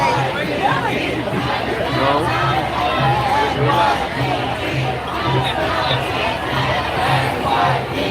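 Dense, steady babble of a large crowd of people, many overlapping voices chattering at once close around, continuous and loud throughout with no pauses.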